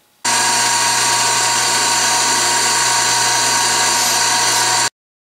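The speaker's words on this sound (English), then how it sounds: "And I'm ready to grind the second lip." A Lisle drill-bit sharpening grinder grinding the lip of a drill bit produces a loud, steady high-pitched whine with a constant motor hum, starting abruptly and running evenly for several seconds before cutting off.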